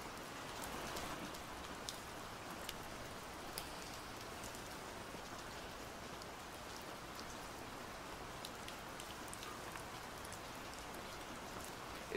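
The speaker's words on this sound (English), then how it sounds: "It's raining." Steady, soft rainfall hisses evenly throughout, with scattered drops pattering nearby; no voices.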